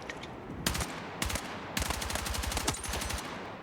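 AK-205 rifle firing in Battlefield 6, loud close automatic bursts: a short burst, a brief pause, another short burst, then a longer sustained stream of rapid shots with no talking.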